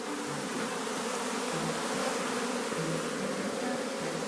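Dense, steady drone of many honey bees swarming close by during a hive removal in rural Jamaica, a continuous buzzing hum with shifting pitches that fills the whole clip without a break.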